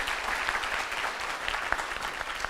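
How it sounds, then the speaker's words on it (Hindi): An indoor audience at a business gathering claps steadily and densely, a sustained round of applause close by with no voices over it. "जोरदार ताली होना चाहिए"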